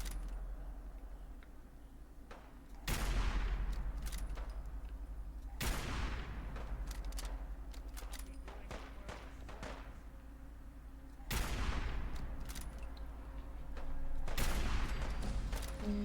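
Gunfire in the game Fallout 4: several sharp, loud shots ring out at irregular intervals, each with a booming reverberant tail, over a low steady rumble.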